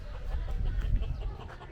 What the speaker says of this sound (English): you got roosters right there on the side of the street